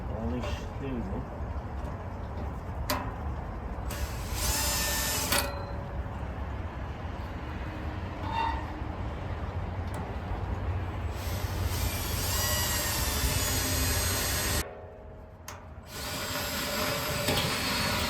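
A hole for a steam box valve pipe ring is being cut with a power tool, heard as several loud whirring bursts over steady background noise, with speech in places.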